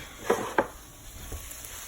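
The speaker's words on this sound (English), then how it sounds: "Break it back up into the frying pan so it can warm through" Cooked meat being broken up in a frying pan: two sharp spatula clacks against the pan over a soft, steady sizzle and scraping.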